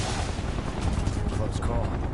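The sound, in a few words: gunfire in a video game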